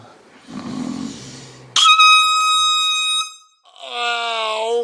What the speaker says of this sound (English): can you hit me with the air horn one time?